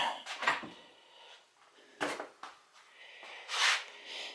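A drawer is opened and rummaged through in three separate scraping, clattering bursts with quiet gaps between them, close by and with no speech.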